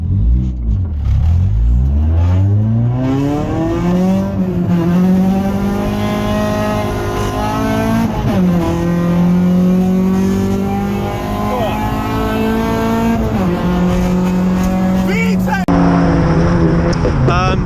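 Modified Mazda 3 Sport racing, engine revving hard through repeated upshifts with rising pitch sweeps, loud and close, tyre noise beneath.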